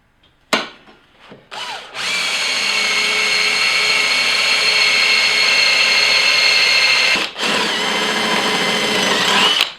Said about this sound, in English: Might drill some holes in this.